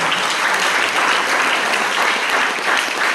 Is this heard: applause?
yes